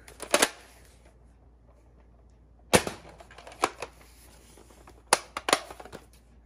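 A Nerf Fortnite Pump SG blaster is loaded and fired with darts: sharp, loud plastic snaps and pump clacks come in short pairs and clusters, separated by quiet gaps.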